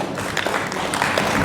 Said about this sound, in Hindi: एक बार आनंद भैया के लिए जोरदार तालियां